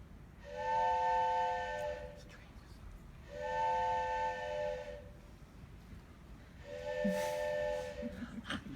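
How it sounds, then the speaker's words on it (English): Three long steam-style train whistle blasts sound in an even rhythm with short pauses between, each a bright multi-tone chord that holds steady then cuts off, over a faint hissing background. "What she heard was the sound of a train whistle."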